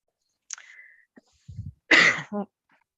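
A person coughs a few times in quick bursts, close to the microphone at a council meeting, with a sharper explosive cough near the end.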